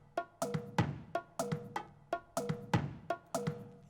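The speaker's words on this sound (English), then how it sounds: "the congas and the bongos." Conga and bongo percussion samples looped in FL Studio for an Afro house beat, a quick repeating pattern of crisp, close drum hits with a steady rhythm and no talking.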